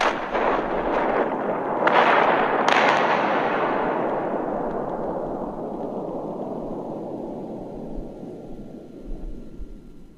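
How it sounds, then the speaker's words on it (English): A loud explosion in the video game Batman: Arkham City, a blast with a few sharp cracks at the start, followed by a long rumbling roar that slowly fades away. "the building rumbled and Batman hears an explosion outside"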